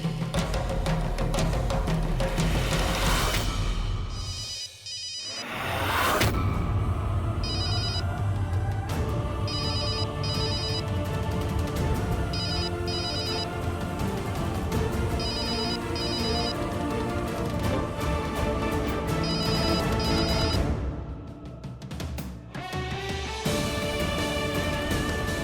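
A telephone rings insistently with a repeating electronic ringtone pattern, loud and close, briefly cutting out twice before resuming.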